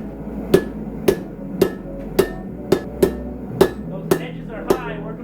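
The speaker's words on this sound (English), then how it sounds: "then we hammer it flat" Hand hammer blows flattening hot Damascus steel on an anvil, about ten sharp ringing strikes at an even, unhurried pace, loud and close.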